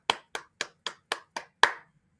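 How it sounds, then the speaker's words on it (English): Seven sharp, evenly spaced claps from an audience applauding Miss Vanessa after a seven-pound weight loss, the last clap slightly louder, with no talk. "Let's give some claps to Miss Vanessa"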